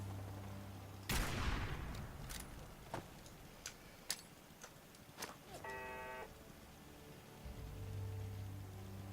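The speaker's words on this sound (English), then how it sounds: "Less hard when they start shooting at me." Enemy gunfire in the video game Fallout, a loud opening blast followed by scattered sharp shots at irregular intervals over low ambient hum, with a brief electronic tone partway through.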